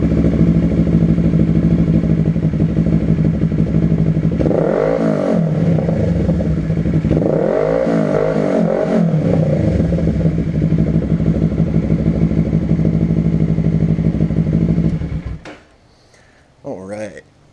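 A Kawasaki Ninja 650 fitted with a Danmoto full exhaust idles loudly, then revs twice to about 7,000 rpm in rising and falling swells before the engine shuts off, leaving near silence and a brief clatter.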